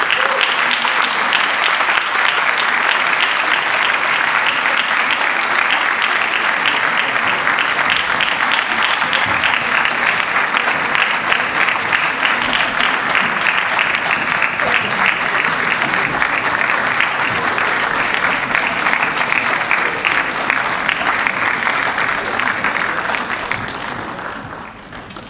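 An audience applauds at a film event as the film's crew is called onto the stage. Dense, loud, sustained clapping that carries on for about twenty seconds, then fades out at the end.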